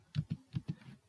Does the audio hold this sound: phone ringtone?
no